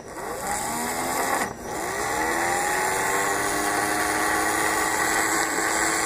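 A handmade electric motor under Arduino control spins with a steady buzzing whir, its pitch sweeping as the speed changes, with a brief dip partway through before it settles into a continuous hum.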